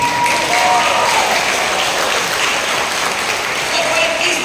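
A church congregation in Pulilan, Bulacan applauds for the Lord, loud sustained clapping from a large crowd filling the room, with some voices mixed underneath.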